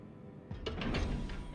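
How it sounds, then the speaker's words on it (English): A door opening in the Star Citizen video game gives a brief mechanical sliding whoosh with a few hissing bursts, close and moderately loud over a low ambient rumble, with no talk. "Open the door."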